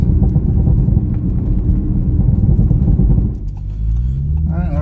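A tuned Audi RS5 Sportback drives on twisty back roads, its exhaust a loud, close rumble that drops off, followed by a few crackling pops and burble as the throttle lifts.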